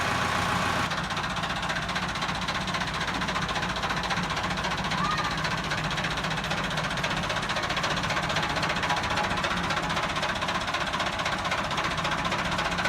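A Massey Ferguson 375 tractor fitted with a modified exhaust runs steadily at idle, a continuous close engine rumble with knocking texture throughout and no talk over it.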